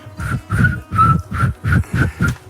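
A person whistles a repeated phrase of seven short, evenly spaced bursts, close and fairly loud, with no talking over it.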